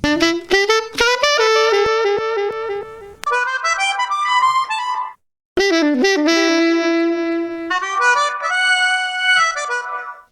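Melodic sample snippets chopped on a Roland SP-404 with delay added, bright tonal bursts and repeated notes that ring and trail off, separated by a brief silent gap.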